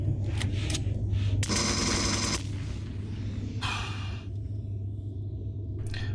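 Gunfire in the space survival game Empyrion: several loud, close bursts of automatic fire over a steady low engine hum, with a long sustained volley early on and another burst later.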